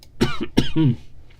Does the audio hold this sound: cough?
yes